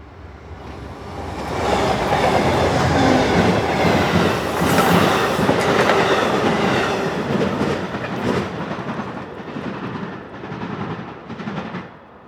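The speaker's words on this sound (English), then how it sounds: "Soon I heard a horn and saw the lights of the train barreling toward us." An Amtrak passenger train rumbles past up close at Palmer, Massachusetts, with a steady roar and clattering wheels, swelling and then fading; no clear horn blast stands out.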